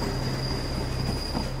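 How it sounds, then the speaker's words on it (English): Train pulling a single carriage gliding to a halt, with a steady low rumble of wheels on rails and a thin high squeal running throughout, heard alone at moderate level. "the train and its single carriage glide to a halt"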